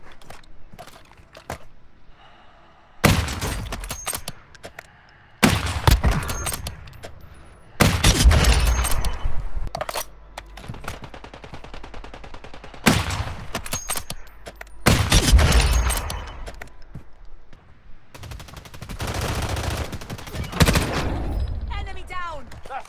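Sniper and automatic fire crack in bursts in the mobile shooter Warzone Mobile, about half a dozen loud, sharp volleys spaced a few seconds apart, with quieter game noise and occasional talk between them.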